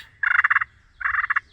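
Two quick bursts of sharp, clucking turkey-call cuts, each a rapid run of loud staccato notes with a short pause between.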